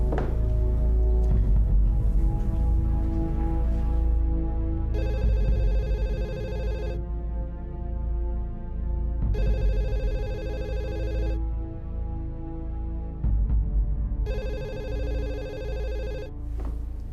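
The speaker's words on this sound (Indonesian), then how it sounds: "Ini telepon dari klien aku." Telephone ringing with a call from a client: three long, loud electronic ring bursts spaced evenly apart over a low background hum, with no talking.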